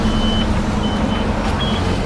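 A bus pulls in with its reversing alarm sounding, a short run of evenly spaced high beeps cutting through a loud, steady engine and street rumble.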